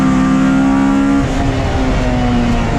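Renault Clio and VW Lupo race cars battling at the Mettet circuit in Belgium, engines droning loudly and steadily with a sustained high-revving note that shifts pitch as the cars pass, no talk over it.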